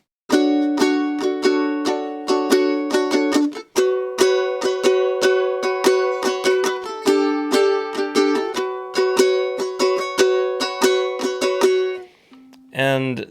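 Ukulele strumming the verse chords of a song, steady repeated strums with chord changes around four and nine seconds, ending in a quick rasgueado flourish; no talking over it.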